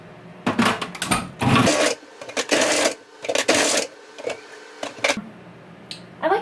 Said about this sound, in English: I'm gonna power up this food processor and we'll slice away.